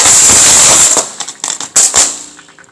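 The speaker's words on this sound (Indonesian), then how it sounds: "Selanjutnya mercon bunga teratai." A lotus flower firecracker goes off nearby, a loud burst of crackling followed by a rapid scatter of sharp pops and cracks that quickly fade.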